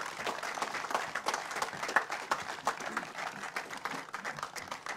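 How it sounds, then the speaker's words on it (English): An audience at an official announcement claps for Michael, a fairly quiet, distant patter of hands that carries on steadily with small swells and no voices over it. "please give Michael a great big round of applause"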